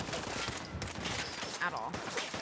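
Rifle fire in the video game Fallout 4: dense, rapid shots crackle over a busy in-game soundscape, with a voice talking faintly underneath.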